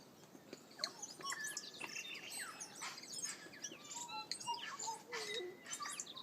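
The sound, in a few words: birds singing in trees in New Zealand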